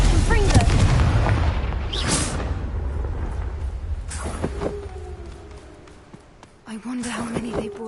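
The Confringo explosive spell in the video game Hogwarts Legacy goes off with a deep, loud booming blast that rumbles away, followed by further sharp bangs and magical bursts.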